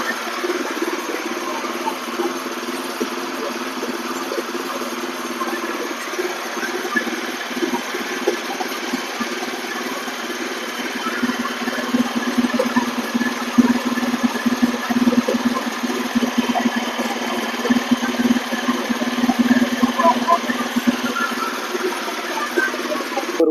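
A small power weeder engine runs steadily after a carburettor repair, a continuous mid-pitched idle hum with slight vibration, close and alone with no talking.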